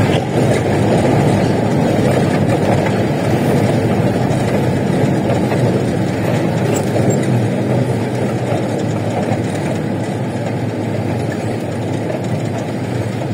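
A motor tricycle engine runs continuously while riding along, a loud, dense low rumble with rattling and road noise throughout and no speech heard.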